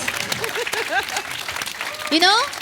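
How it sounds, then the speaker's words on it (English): Applause from an audience at an invention presentation fills the room as a broad wash of clapping, with voices talking over it and a bright whistle-like cry rising near the end. "can we just give him a round of applause first?"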